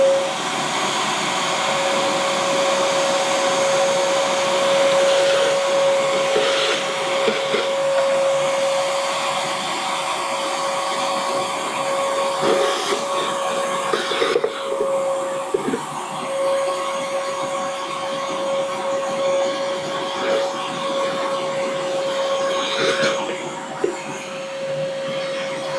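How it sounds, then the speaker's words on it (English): Shop vacuum fitted with an Oneida Dust Deputy cyclone sucking up wood shavings, a loud steady whine with a sustained tone, broken by crackling rattles and clicks as debris is drawn through the hose. "there's no way you're going to hear me over this vacuum"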